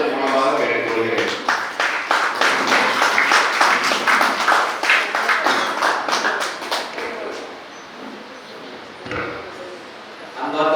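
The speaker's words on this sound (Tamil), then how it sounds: "உங்களது பலத்த கைத்தட்டல் மூலமாக கேட்டுக்கொள்கிறேன்" Audience applause at a church festival honouring ceremony for St. Sebastian in Chinna Udaiyapatty, a dense, steady clapping from a crowd that fades toward the end, with a voice speaking over it.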